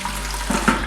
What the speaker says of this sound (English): Now I'll wash it with water because otherwise you will get the lemon flavor